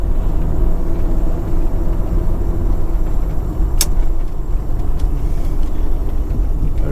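Fiat Coupe 2.0 20v Turbo engine while driving, a steady loud low rumble with constant road and cabin noise and no voices.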